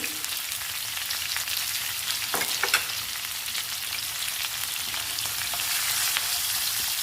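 Beetroot frying in a pan with turmeric and salt, a steady close hiss of sizzling oil with occasional scraping stirs, no one speaking.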